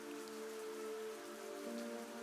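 Steady rainfall in the video game Endling: a soft, even patter of drops on a surface, with a faint tonal hum running underneath and no voices.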